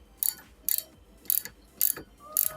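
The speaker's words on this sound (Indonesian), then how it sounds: "setelah sudah pas, langsung kita buka pakai ratchet 22" A size 22 ratchet loosening a front wheel nut on a Chevrolet, five sharp metallic clicking bursts in a steady rhythm, close and loud with quiet gaps between strokes.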